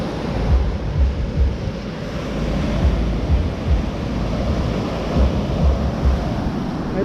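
Ocean waves wash continuously onto Old Orchard Beach at night, a broad steady roar of surf with gentle swells, mixed with some wind rumble and no voices.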